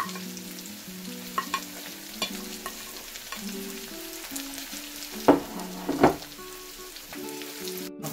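Red onions sizzle steadily in a new frying pan, with occasional stirring knocks and scrapes cutting through the continuous hiss.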